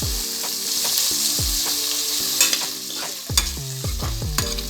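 Cabbage, mixed vegetables and chopped tomato sauté in hot oil, a bright continuous sizzle with spoon scrapes and clinks against the pan, up close and loud, with no voices.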